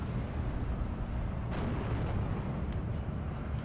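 In the Steel Division 2 video game, 300 mm Nebelwerfer rocket artillery fire produces a continuous, dense rumbling roar of explosions, with one sharper burst standing out midway and no voices.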